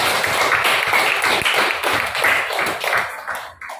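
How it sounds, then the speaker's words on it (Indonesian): A classroom of students clapping together, dense overlapping hand claps sustained at fairly close range, tapering off near the end. "Tepuk tangan sekali lagi."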